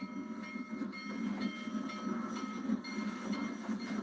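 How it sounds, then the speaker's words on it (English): Old steam train on uneven rails, a steady rumble with faint rhythmic clanking and chuffing, heard from on board at moderate distance without any voices. "The old steamer settles into a chuffing, clanking rhythm."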